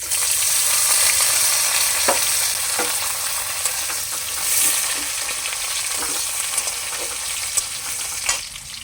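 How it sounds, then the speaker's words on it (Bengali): Chopped onion frying in a pan with fennel seeds, a steady loud sizzle throughout with occasional stirring clicks and scrapes, no voices. "পেঁয়াজ কুচি দিয়ে দিচ্ছি।"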